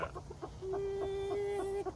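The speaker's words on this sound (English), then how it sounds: "Chickens are free range looking for bugs." Chickens cluck close by in a quick series, one bird holding a longer, drawn-out call.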